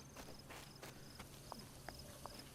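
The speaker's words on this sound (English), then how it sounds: "depending on where you step on, the noise of the footsteps change" Soft, evenly paced footsteps crunch and tap across rocky and grassy ground in Zelda: Breath of the Wild, faint and close, with a light ambient hum underneath.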